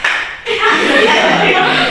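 A classroom of students bursts into dense clapping during a morning-noon-night clapping game, starting suddenly after a brief lull and continuing loud and close, with a teacher's voice and some chuckling mixed in.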